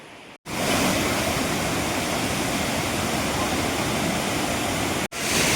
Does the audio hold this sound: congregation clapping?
no